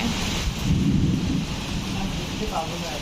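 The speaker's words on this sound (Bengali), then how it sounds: "বৃষ্টি পড়ছে বিদ্যুৎ চমকাচ্ছে" A thunderstorm pours down rain in a loud, continuous hiss, while deep thunder rumbles low underneath and then fades as the downpour carries on.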